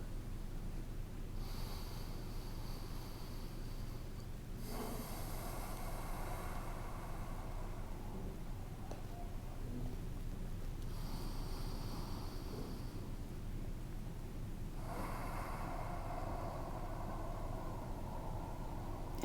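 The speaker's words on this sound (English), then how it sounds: "3 more breaths here." Slow, deep breathing during yoga relaxation, heard as long airy inhales and exhales in a slow rhythm, fairly soft and close over a steady low background hum.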